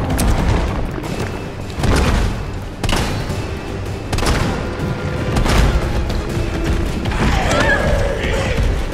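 Shotgun blasts in Resident Evil 3 Remake gameplay, several heavy booming shots spaced about a second apart with game effects between them, while a player talks over the action.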